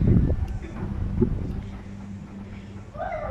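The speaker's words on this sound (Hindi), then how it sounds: "देखिए कितनी तेज़ हवा है" Strong wind blows with a low, rumbling buffet against the microphone, swaying trees, steady gusty noise and faint rustling, no clear voices.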